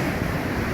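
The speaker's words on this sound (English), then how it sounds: "the waves are coming in" Ocean waves roll in on Sayulita beach in Mexico during hurricane surf, heard as a brief, steady roar of surf with wind noise and no voices.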